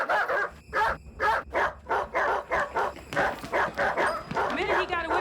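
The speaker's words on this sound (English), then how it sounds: "We can't go out there with the dogs." Dogs bark and yip in a rapid, regular run of loud, close barks that keeps going throughout, with a low background rumble.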